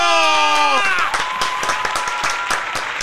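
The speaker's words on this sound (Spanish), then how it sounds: "Podcast aplauso" Short burst of applause and clapping from a crowd, loud and dense at the start, with a sustained sung or musical tone fading in the first second, then steady scattered claps continuing to the end.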